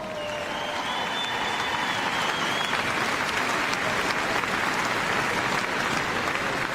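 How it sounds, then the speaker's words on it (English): Steady, dense applause from a large crowd at the Crufts 2018 dog show in a big arena, continuous and fairly distant, with a few faint whistles over it. "You're going to have to clap a lot longer now, aren't you? Keep clapping."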